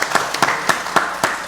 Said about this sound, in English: So give Executive Director Rutledge a round